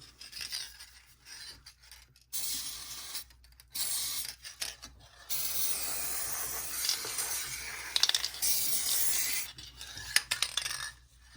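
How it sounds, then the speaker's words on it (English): Tri-flow bicycle oil sprays onto the electric motor parts of a Singer 401A sewing machine in bursts of close hissing, with brief gaps and small clicks of the can between the longer sprays. "And I'm just spraying everything."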